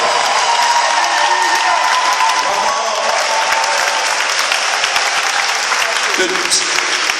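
Steady, dense applause from a large crowd, loud and continuous throughout, with a few faint cheers mixed in.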